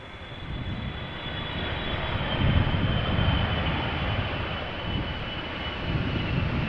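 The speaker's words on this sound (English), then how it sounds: "Emirates Sky Cargo arriving from Aguadilla" An Emirates SkyCargo jet arrives at Amsterdam Schiphol after rain, its engine roar and high whine building up and peaking around the middle before easing slightly, loud and sustained.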